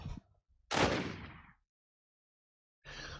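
A single loud, sharp gunshot sound effect sample with a decaying rumbly tail, followed by silence and then a softer steady noise.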